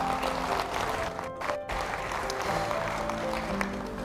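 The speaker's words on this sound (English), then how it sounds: "So a big round of applause, guys." Audience applause at a marketing talk for brokers, a steady broadband clatter of many hands filling the whole stretch at even loudness, with faint tonal background sound underneath.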